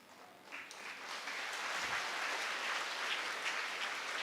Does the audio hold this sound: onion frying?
no